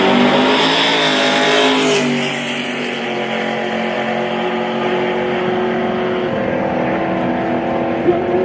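A Mercury Comet drag racing street car at Tulsa Raceway Park, loud engine revving hard then settling into a sustained roaring drone as it runs, close and dominant throughout.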